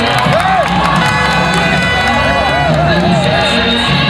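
Crowd at an Orange fan village screening of the 2015 Africa Cup of Nations final, Ivory Coast versus Ghana, cheering and shouting loudly and continuously before the penalty shootout, with whoops and children's shouts in the mix.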